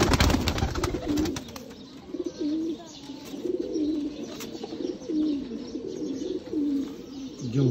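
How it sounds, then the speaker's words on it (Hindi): Sialkoti pearl-spotted pigeons cooing in a repeated rolling pattern, close and fairly quiet, with a faint rustle at the start and no talking. "दूसरे दोस्तों कबूतर मोतियों वाले कबूतर"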